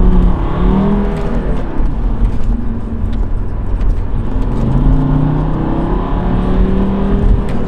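A diesel Alfa Romeo car engine revs and accelerates steadily, a loud continuous rumble with rising and falling pitch sweeps, no talking.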